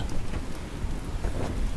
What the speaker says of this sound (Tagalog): May ulan eh. Umulan.